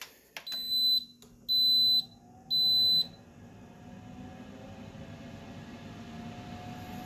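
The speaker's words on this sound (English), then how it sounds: "Now you could hear it, the fan going right away, that it's starting right away" An Instant Pot Duo Crisp in air-fry mode gives three short, clear electronic beeps, then its fan spins up into a steady, even whir that holds close and constant to the end.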